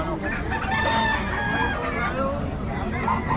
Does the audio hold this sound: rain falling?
no